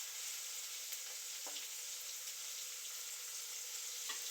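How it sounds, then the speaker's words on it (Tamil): Tomatoes sauté in a pan, giving a faint, steady hiss of frying with a couple of brief stirring clicks, quiet and continuous with no voices. "தக்காளி நல்லா வணக்கிக்கலாம்."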